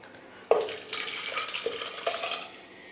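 Water being drained off cooked dal for sambar in a kitchen, opening with a sharp clank of a metal pot followed by a short spell of pouring and splashing, plus light utensil clatter.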